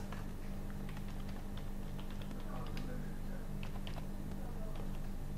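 A username and password are typed on a computer keyboard while logging into an online course platform, with quick, soft, irregular key taps under a steady background hum.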